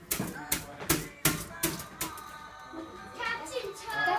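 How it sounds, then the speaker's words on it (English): A typewriter clacks out roughly six sharp, evenly spaced keystrokes close by, then the typing fades as a voice talks and plays nearby. "That's the typewriter, baby."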